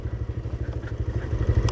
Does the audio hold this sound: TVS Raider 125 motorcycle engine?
yes